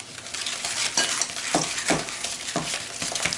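A spoon stirs a lasagna cheese filling with grated Parmesan and dried parsley in a bowl, making repeated close, rhythmic scraping strokes with no talking.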